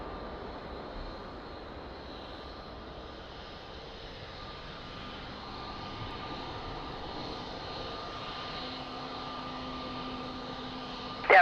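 Airliner reverse thrust after landing at Lisbon Airport: a steady, distant broad engine roar that holds evenly for several seconds, then a brief louder burst right at the end.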